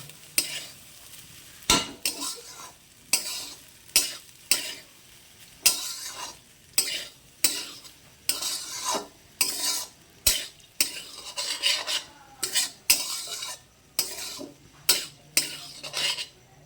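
Rice stirred in a pan over low heat for Basanti pulao, a spoon scraping and rustling in regular strokes about every second, each with a faint sizzle, close and clear with no talk.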